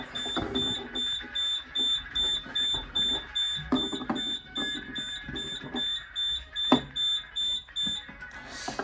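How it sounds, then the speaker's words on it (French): A Nugelec S97 rate-of-rise heat detector triggering a fire alarm, a loud, evenly pulsing electronic tone repeating in rapid regular bursts, with clatter and handling noises heard near the microphone. "le détecteur thermovélocimétrique s'est mis en position d'alarme"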